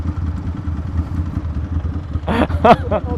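A motorcycle engine rumbles low and steady during a night ride, a continuous drone with a brief burst of voices near the end.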